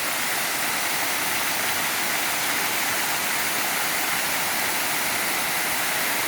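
Loud, continuous rushing water after heavy rain, like a stream or small waterfall pouring down, steady and close with no pauses.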